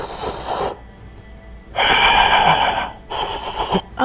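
A voice imitates the loud, strange, irregular breathing of an unseen creature: three harsh, rasping breaths, long noisy inhales and exhales separated by short pauses, close and loud.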